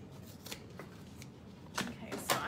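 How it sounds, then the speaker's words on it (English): Scissors snip through the excess seam allowance on a fabric Annette satchel, a few short crisp cuts spaced irregularly, close and fairly quiet, with soft handling rustle between them. "I'm going to cut my excess seam allowance."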